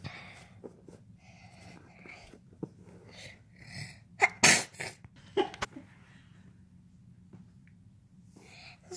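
A person sneezes, with a sharp, loud burst in the middle followed by smaller snorts and breathy sounds in an otherwise quiet indoor room.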